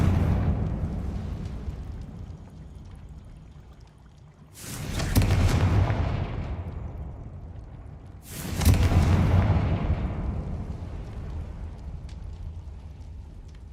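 Confringo spell explosions in a Harry Potter video game, two big booming blasts about four seconds apart, each swelling loudly then rolling off into a long rumbling tail over a steady low game ambience.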